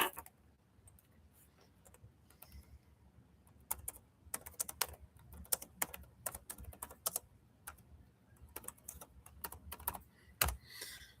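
Rapid bursts of typing on a computer keyboard, with clustered key clicks in uneven rhythm, fairly close and clear over a low background hum, with short pauses between runs.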